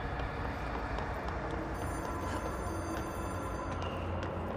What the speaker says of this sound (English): I hear phone ringing.